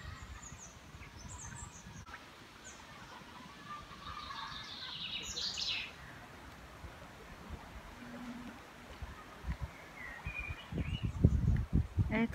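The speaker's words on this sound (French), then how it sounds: "les oiseaux." Birds sing faintly in a natural outdoor setting, with scattered thin chirps and short calls over a soft, low ambient background that grows rustly toward the end.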